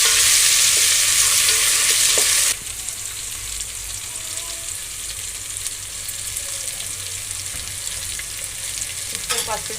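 Ginger garlic paste frying in a pan for chicken biryani gives a steady, close sizzle, loud and bright for the first couple of seconds, then a softer continuous crackle with occasional stirring scrapes.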